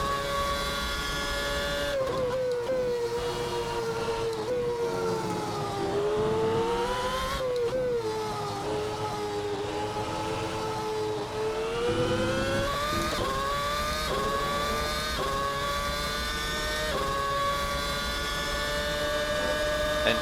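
A McLaren MP4/22 Formula 1 car in a racing sim, its high-pitched engine screaming continuously at high revs and dipping briefly on downshifts before climbing again, loud and steady throughout.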